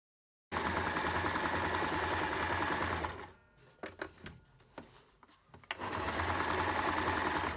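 Sewing machine stitching a seam on a cloth mask, a loud steady whirring run that pauses briefly with scattered clicks and handling noises, then resumes close up.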